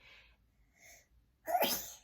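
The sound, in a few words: sneeze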